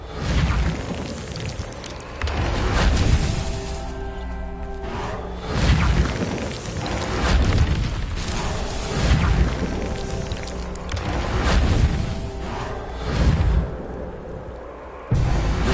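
Repair spell Reparo cast in the Hogwarts Legacy video game, a run of loud magical booms and whooshing swells recurring every couple of seconds, dense and close, with no talking.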